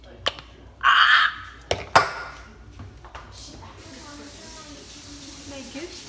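An aerosol spray can lets out one short, sharp hiss of about half a second, framed by clicks and taps, with people speaking and reacting afterward.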